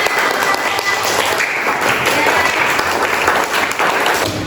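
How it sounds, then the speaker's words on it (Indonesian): A class of students applauds in a classroom during a lesson on Islamic prayer, a thick, even patter of many hands clapping at once that runs unbroken for several seconds. "tepuk tangan untuk semuanya"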